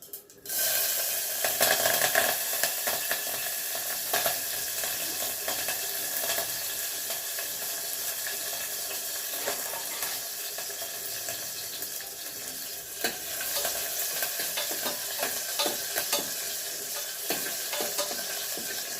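Mustard seeds, cumin and green chillies sizzling in hot tempering oil, a loud crackling hiss that bursts up at the start then settles into a steady sizzle with occasional stirring scrapes, no voices.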